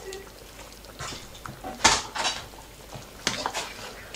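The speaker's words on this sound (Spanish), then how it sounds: "ahora vamos a servir los platos" Plates and dishes clink and knock a few times while portions of pig's trotters in sauce are served at a home kitchen table, short close clatters spaced irregularly over quiet room tone.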